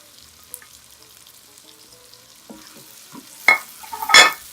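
Green chili and dry masala frying in a pan for chicken curry: a low crackle builds into loud, bursting sizzles near the end, with no talking.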